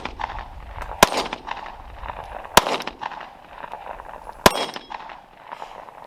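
Three sharp gunshots from a Glock 43X MOS pistol crack out at uneven intervals, each loud and close with a brief tail, over a background of low outdoor range noise. No one speaks.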